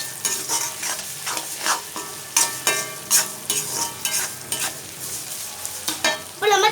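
Onion and tomato masala for a sankara fish curry being stirred and sautéed in a frying pan: repeated scraping strokes of a spatula in an uneven rhythm over a continuous close sizzle, with no voices.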